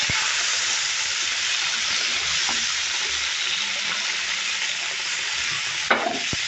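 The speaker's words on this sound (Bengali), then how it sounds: "মাছটাকে আমি হলুদ লবণ মরিচ দিয়ে ভেজে নিচ্ছি" Tilapia fish frying in a pan with turmeric, salt and chili, a steady close sizzle of hot oil with faint stirring and a brief clatter near the end.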